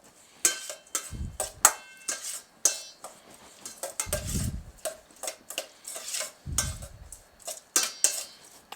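Creole seasoning being stirred together in a bowl: a utensil clinks and scrapes against the dish in short irregular bursts, with a few duller knocks, close and fairly quiet.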